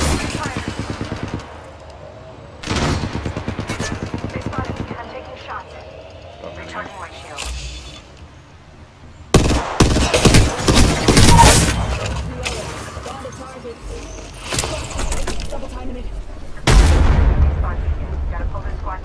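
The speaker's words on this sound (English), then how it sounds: "Oh, there's another guy shooting there." Gunfire rings out in loud, sharp bursts, with a dense cluster of shots midway and another blast near the end, under ongoing voices.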